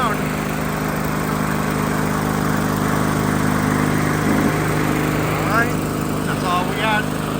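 New Holland Boomer 45 tractor engine running at a steady idle, a constant, fairly loud drone with a voice talking over it near the end.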